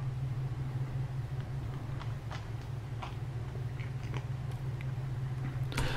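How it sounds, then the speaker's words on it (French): A cat crunching dry kibble indoors, small crisp bites scattered faintly over a steady low hum from a nearby washing machine or similar appliance, with a purr underneath. "j'ai pris un clip avec le chat qui mange les croquettes"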